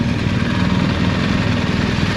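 Ducati and other sports motorcycles idling at a busy stop in La Roche in the Ardennes: a steady, throbbing low engine rumble, close and constant, with no talk.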